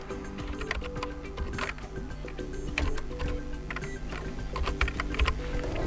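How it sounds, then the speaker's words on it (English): Steady run of keystrokes on a PC computer keyboard as a code is entered, quick irregular clicks continuing throughout at close range with no talk. "now we need to type this code in our HiSuite app on the PC"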